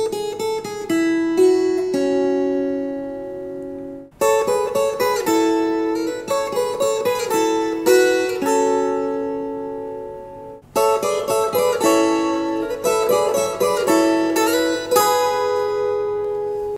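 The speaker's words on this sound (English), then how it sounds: "Together, the lead harmonies sound like this." Layered electric guitar lead lines in harmony, split left and right, play a melodic passage in three bursts with sustained notes and brief gaps, loud and up front with no talking.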